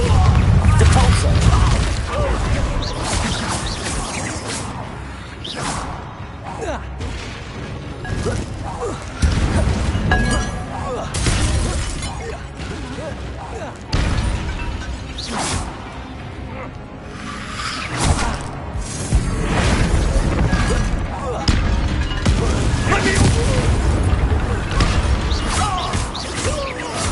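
Explosive spell blasts in a fantasy wizard action game, recurring booms and crashes through a long stretch of chaotic combat noise, with a voice shouting spell names throughout.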